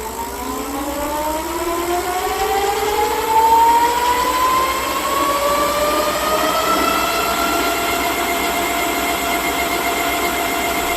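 A raised rear wheel on a dual-motor 52V electric bike spins up under throttle, giving a steady whine that climbs smoothly in pitch and stays loud and continuous with no talking.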